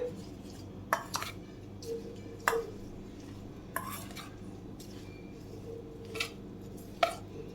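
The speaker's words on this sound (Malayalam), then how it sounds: "ഇനി ഇത് നമുക്ക് ഇളക്കി മിക്സ് ചെയ്യാം." Masala powder being stirred into green chilies for a pickle, with soft scraping and several sharp spoon clinks against a vessel scattered across the clip, fairly close and quiet, no talking.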